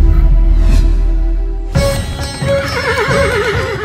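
Horse neighing loudly and close by, a wavering whinny that rises and falls near the end, following a deep low rumble in the first couple of seconds.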